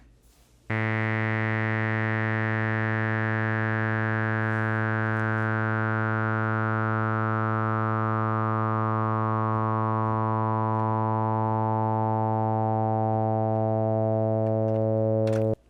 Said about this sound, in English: the filter is at the upper part of the spectrum, and then it closes down